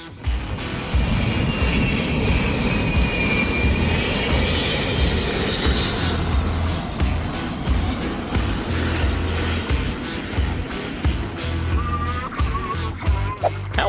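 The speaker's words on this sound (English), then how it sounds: "The A380 is a huge plane." An Airbus A380 airliner passes low over houses, its jet engines producing a loud, sustained roar that fills the whole stretch, with a faint rising whine and some rattling noise near the end.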